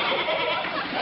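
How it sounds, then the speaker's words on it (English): Goats bleat in a farmyard scene from an old radio comedy, a dense, continuous burst of bleating with no speech over it. "McGee, get those goats out of here"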